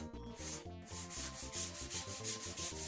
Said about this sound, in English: The boxes had plenty of rough edges, so I took care of them with a bit of sanding.